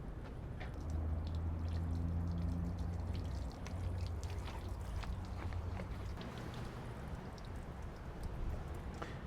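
Water is poured onto the cowl area of a 2015 Chevrolet Traverse, a continuous close splashing and trickling with a low rumble underneath, steady for several seconds before thinning out.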